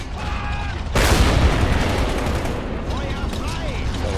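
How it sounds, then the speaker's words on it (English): An MG-34 machine gun fires during a battle on the outskirts of Stalingrad in 1942 in the game Men of War: Assault Squad, a sudden dense burst of gunfire and booms that keeps rattling loud and close under the clatter of battle. "Sounds like an MG-34 firing off there."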